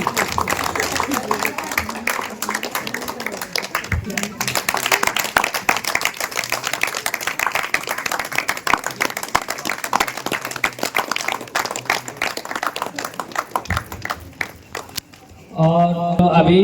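Sustained audience clapping at a World Human Rights Day celebration stage event, a dense continuous patter lasting well over ten seconds before cutting off abruptly, followed briefly by a voice.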